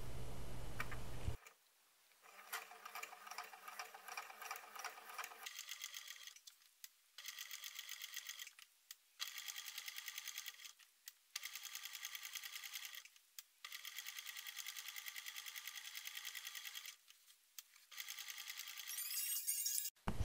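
Sewing machine topstitching around faux leather for a coin purse, running in a series of quick rhythmic bursts separated by short pauses, close and fairly quiet, with a louder thump at the start.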